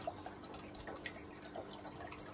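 Water trickles and drips steadily as a flood and drain aquaponics grow bed fills during a test run, a soft continuous wash with small intermittent drips, fairly faint and close, no talking.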